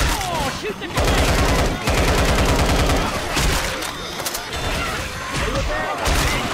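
Gunfire in Left 4 Dead 2 rattles in loud, dense bursts of rapid shots aimed at the Tank, broken by brief pauses, with shouted voices mixed in.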